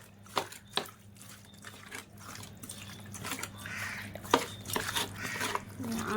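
Hands knead raw chicken with spices and chopped raw mango in a bowl, producing wet squelching and sloshing with a few sharper taps and knocks, close and moderately loud.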